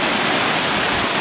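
A small waterfall cascades on Walton Brook, a loud, close, unbroken rush of falling water with no voices.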